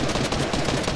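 Hand cannon gunshot in the Fortnite video game, a loud, dense burst of shots filling the second with steady, sharp impact noise and no talk.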